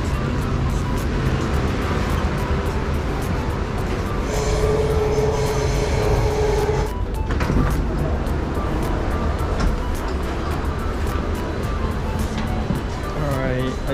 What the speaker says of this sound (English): All right, the train is approaching now.